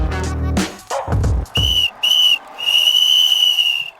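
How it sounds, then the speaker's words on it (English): A referee's whistle sounds a full-time signal at a football match: three sharp blasts, two short and one long sustained shrill tone, ringing out clearly after a moment of voices and crowd noise. "It's the full-time whistle."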